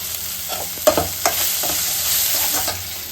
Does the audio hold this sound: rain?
no